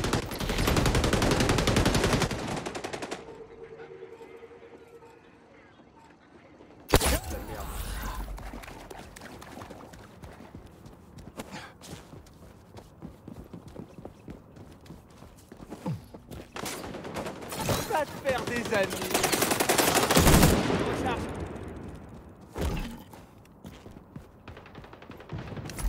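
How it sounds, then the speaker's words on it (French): An automated turret in the video game XDefiant fires long rapid bursts, loud and close, with pauses between volleys and scattered mechanical clatter. "Ah, c'est une tourelle, oh, les tourelles"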